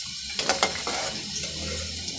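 Boiling water being drained off cooked cauliflower for a gobi gosht dish: a steady pouring splash with a few sharp clatters near the start, close and fairly quiet, with no talk.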